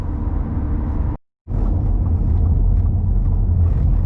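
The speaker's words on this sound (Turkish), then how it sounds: "Şu anda arabanın gittiği yol bozuk bir yol. Tırtıklı, tıraşlamışlar yolu. Felaket bir titreşim var aslında arabada" A car drives over a damaged, grooved road surface that has been milled, giving a steady loud rumbling vibration inside the cabin, broken by a momentary drop to silence before the roar resumes.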